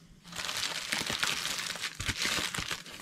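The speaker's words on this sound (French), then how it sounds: "Oh non, c'est encore emballé. Il va falloir encore que je le déballe." Wrapping paper on a birthday gift crinkles and crumples loudly and continuously as it is unwrapped close by. No one speaks over it.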